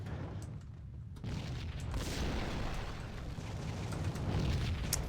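Grenade bombing explosions in the shooter Max Payne, a roaring, rumbling wash of blasts and debris that swells and stays loud throughout, with sharper pops scattered within.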